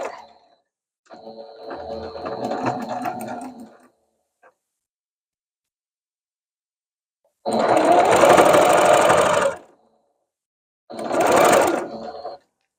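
A sewing machine with a walking foot struggles through thick sweatshirt fabric in three loud bursts of rapid mechanical stitching, the longest near the middle, separated by silent pauses.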